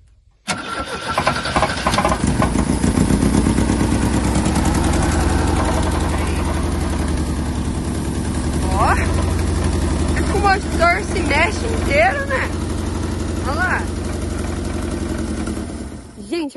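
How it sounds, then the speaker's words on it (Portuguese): A Chevette's engine cranks and catches, then settles into a steady, loud idle close by, its fuel supply dirty; someone talks over the running engine throughout. "Agora o Chevetão Tesouro tá parando na lenta, assim, ó."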